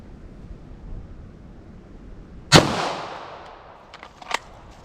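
A single sharp 9mm Winchester pistol shot fired into ballistic gel outdoors, loud and close, with a decaying echo and a couple of smaller knocks afterward under light wind noise.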